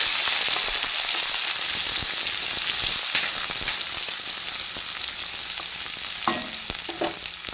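Garlic cloves and chopped onion frying in a pan, a steady loud sizzle throughout with occasional stirring scrapes and clatter near the end.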